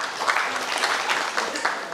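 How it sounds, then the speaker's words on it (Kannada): Applause from an audience at a Kannada drama event honouring a senior artist, a fairly quiet, continuous patter of clapping with a few sharper claps standing out. "ಜೋರು ಚಪ್ಪಾಳೆ ಮತ್ತೊಮ್ಮೆ."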